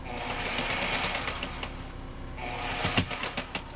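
A sewing machine runs in a steady rattling buzz, stops briefly, then starts again with sharp clicking knocks as its needle breaks, close and fairly loud, with no talking.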